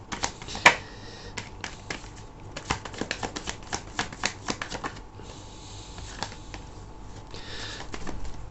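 Tarot cards are shuffled and drawn close by in a quick run of crisp riffles and slaps, followed by softer sliding and rustling. No one speaks.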